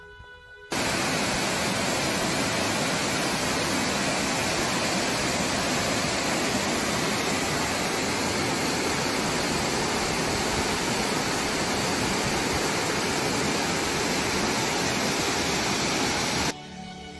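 A waterfall in the Seoraksan mountains roars as a dense, steady wash of falling water, close and unbroken for the whole stretch.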